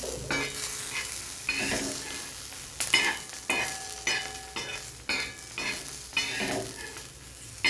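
Cumin seeds frying with roasted green chilies and garlic in a pan for spicy mirchi thecha, a close crackling sizzle broken by repeated rhythmic scraping stir strokes, with no talking.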